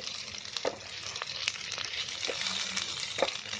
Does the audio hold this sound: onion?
yes